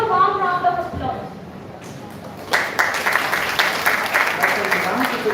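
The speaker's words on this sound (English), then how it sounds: "Let's give him a warm round of applause." An audience at a law college's Pro Bono Cell inauguration and orientation breaks into a warm round of applause, dense steady clapping that starts midway after a voice speaks and continues to the end.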